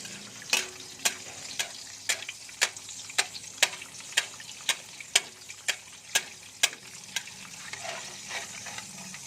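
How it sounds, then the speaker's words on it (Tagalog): A sunny side up egg frying in a pan, a soft continuous sizzle broken by a regular series of sharp ticks roughly every half second, close and fairly quiet. "ito yung sunny side up or pritong igyok yan"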